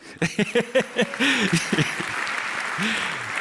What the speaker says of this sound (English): Applause to Pixxa.